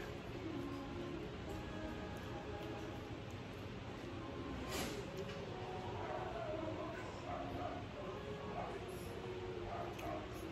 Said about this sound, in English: Sorry about the dogs outside, the neighbor's dogs.